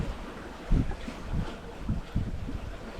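Wind buffets the microphone aboard a sailboat in a southeast wind, a steady roaring rush with gusty low thumps pulsing every half second or so, loud and close.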